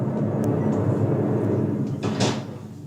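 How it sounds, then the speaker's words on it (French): A door being opened in a dark, muffled setting, with a low rumbling drone throughout and a brief clattering knock and scrape about two seconds in. "Ils ouvrent une porte."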